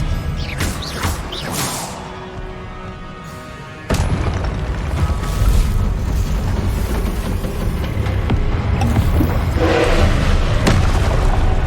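Spell blasts and impacts in the Hogwarts Legacy video game, including an Expelliarmus disarming spell, come as a string of loud booms and crashes over a dense rumbling battle bed with sharp transients throughout.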